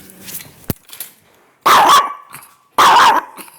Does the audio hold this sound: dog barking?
yes